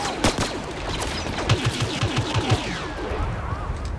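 Scout pistol fired in a video game: a rapid run of six or seven evenly spaced shots heard at moderate loudness, with a louder report just before and other game noise and a voice faintly underneath.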